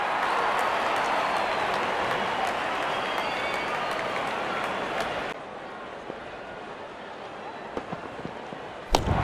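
Virtual stadium crowd in the Real Cricket video game, India vs Pakistan, applauding a batsman's fifty: a loud, steady wash of clapping and cheering that drops to a quieter crowd murmur halfway through, with a few sharp pops near the end.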